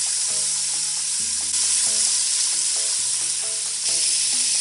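Onions fry in a pan for a quick mutton biryani, a constant loud bright sizzle running throughout, with soft background music underneath.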